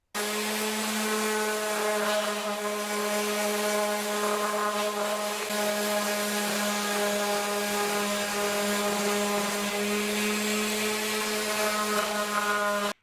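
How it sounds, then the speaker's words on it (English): An orbital sander smooths the jagged edges of a cut PVC pipe circle, a steady, strongly tonal motor whine with a gritty buzz underneath, running continuously and close. "we're going to take again the orbital sander and just sort of round it up, smooth it out"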